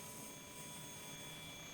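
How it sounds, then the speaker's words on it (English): A scale flybar helicopter in the Heli-X simulator game gives off a steady, faint rotor and engine drone with a thin whine, holding even throughout without change. "A nice scale flybar helicopter."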